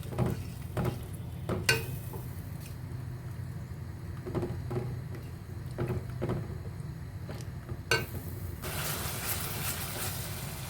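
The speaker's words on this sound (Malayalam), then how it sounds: "എണ്ണ തെളിയുന്നത് വരെ ഇത് നന്നായിട്ട് വഴറ്റിയെടുക്കണം." A tomato mixture sautéing in oil for tomato rice: a low continuous sizzle with intermittent spoon-and-pan scrapes and clinks, fairly faint and close, with no talking.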